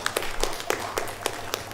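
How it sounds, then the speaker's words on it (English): An audience applauding at a Vaishnava devotional talk, a light scattering of claps with sharp individual hits spaced irregularly over a steady low murmur, fairly near and moderately loud. "So please give her a big round of applause"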